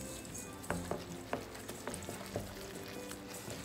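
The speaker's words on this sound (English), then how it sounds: "Now we're gonna give this a stir to combine." Crab cake mixture with panko crumbs is stirred in a bowl, giving a steady low scraping churn broken by several soft clacking knocks of the utensil. The clip is fairly quiet, with no talking.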